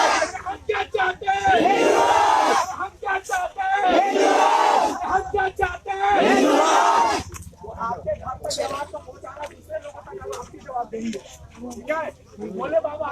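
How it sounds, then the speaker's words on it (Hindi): A crowd of devotees gathered around a tree in Hazaribagh, with a loud, dense murmur of many voices and shouting in the first half, thinning to scattered chatter and movement later. "वहाँ देख सकते हैं भीड़ फिर से जुट गई है वहाँ पे लगातार"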